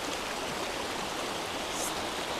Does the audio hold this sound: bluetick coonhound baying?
no